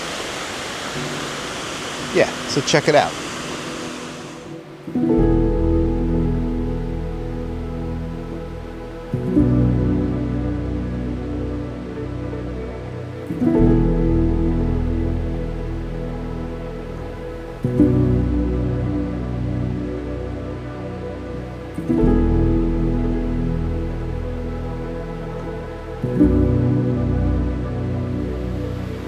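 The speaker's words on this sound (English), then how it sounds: "shoot a long exposure of the waterfall down here" A waterfall's broad, steady rush fills the clip, while someone talks briefly at the start and a repeating low musical drone swells in waves over the water noise.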